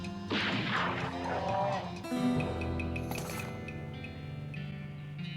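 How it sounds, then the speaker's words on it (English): A cow fought in the video game West of Loathing, giving cartoonish moos mixed with smashing hit effects and tonal game sounds, close and clear with no talk. "You're gonna have to deal with this cow if you want to explore the area."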